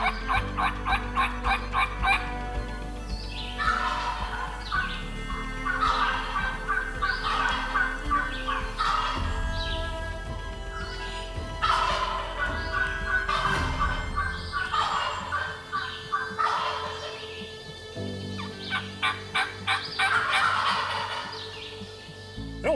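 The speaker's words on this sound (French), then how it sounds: "on se ramasse comme otage entre les dindons, littéralement" Wild turkeys gobble repeatedly in rapid, rattling bursts in a field in New Brunswick, some close and loud, others farther off, over a low steady hum with occasional dog-like barks.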